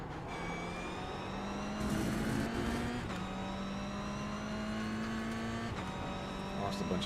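A race car engine in iRacing at Sebring drones steadily at high revs, its pitch climbing and then dropping sharply at upshifts about every few seconds, loud and constant with no talk over it.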